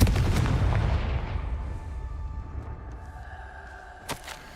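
A Confringo fire spell blast in the Hogwarts Legacy video game, one loud booming explosive burst at the start that rumbles and fades away, followed by a faint crack near the end.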